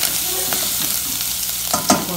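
Farofa with bacon and Tuscan sausage sizzles steadily in a pan while a utensil stirs and scrapes through it, close up, with a couple of sharper knocks near the end.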